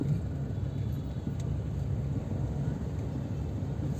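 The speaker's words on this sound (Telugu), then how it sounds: "ఇక్కడ కొంచెం ట్రాఫిక్ లాగా అనిపిస్తుంటుంది." Steady road traffic near a bridge and connecting road to Malakpet, a dense low rumble of passing cars that continues without a break and without speech.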